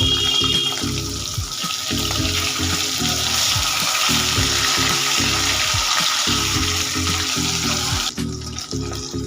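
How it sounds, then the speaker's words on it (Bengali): Sarputi fish frying in hot mustard oil in a pan, a loud continuous sizzle and crackle with rhythmic pulsing bursts as the fish cook, close up with no talking. "এবার এর মধ্যে মাছগুলো দিয়ে ভেজে নিয়েছি"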